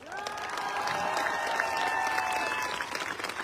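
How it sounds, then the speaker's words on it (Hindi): Audience at a motivational seminar in Lucknow claps together in a steady, moderate burst of applause with crowd murmur beneath, while a sustained tonal sound runs through most of it. "ताली बजाओ तो ढंग से।"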